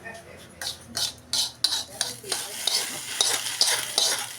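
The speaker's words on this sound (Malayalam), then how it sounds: "ഇത് നമുക്ക് വറവിലേക്ക് ഇട്ട് കൊടുക്കാം" Chopped yam leaves with green chillies dropped into hot oil for a Kerala-style stir-fry, sizzling and crackling up close while a spoon stirs and scrapes the pan in bursts, no talking.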